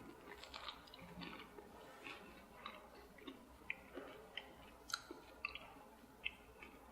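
Crunchy homemade baked treats are chewed close to the mic: faint, steady crunching bites with sharper crackles repeating every half second or so, and no talking.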